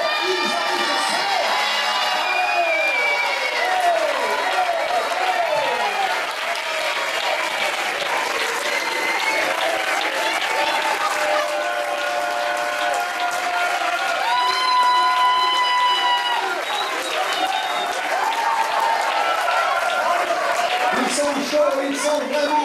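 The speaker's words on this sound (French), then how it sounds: "quoi de meilleur pour les encourager qu'encore une fois, un tonnerre d'applaudissements" A theatre audience at an improv comedy show gives a long, thunderous round of applause mixed with cheers and shouts, loud and sustained for over twenty seconds as the performers come on stage.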